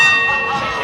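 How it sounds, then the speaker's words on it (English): A ring-side bell sounds at the start of a wrestling bout, a bright sustained ringing tone held loud through the moment under crowd noise. "The bell has sounded, and here we go."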